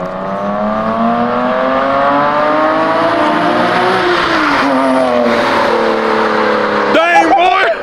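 Porsche Cayman S fitted with an inexpensive Circuit Werks aftermarket exhaust revs loudly nearby, its pitch climbing and falling through several long sweeps before excited shouts break in near the end.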